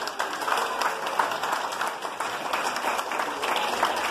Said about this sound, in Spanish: Un aplauso para la mamacita